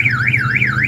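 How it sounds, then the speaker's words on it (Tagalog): A car alarm wails close by, its siren sweeping up and down in a smooth, regular cycle with a low engine-like hum underneath. "Nag-alarm na, nag-alarm."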